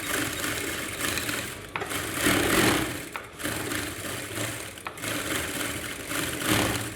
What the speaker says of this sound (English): So we are sewing both edges together like this.